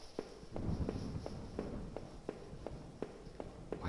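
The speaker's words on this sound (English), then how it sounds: "Why does this guy have to stomp?" Heavy footsteps stomp steadily through a house in the horror game Home, about ten evenly spaced thuds close by over a rumbling background.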